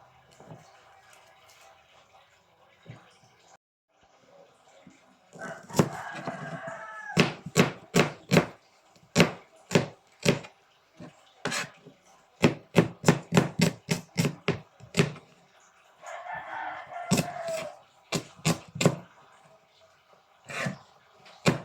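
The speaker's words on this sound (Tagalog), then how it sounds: "Tapos tayo ng paghiwa ng sibuyas." A knife chops onion on a cutting board in a home kitchen, sharp rhythmic clicks in quick bursts with short pauses between runs, close and fairly loud, with brief rustling of the onion between sets.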